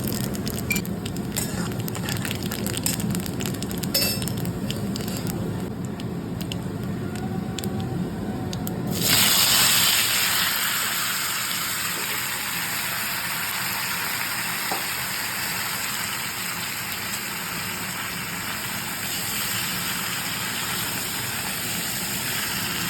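Tomatoes frying in mustard oil with five-spice and dried chilli give a sudden loud sizzle around the midpoint that settles into a steady hiss, after a quieter stretch of low background hum and small clicks.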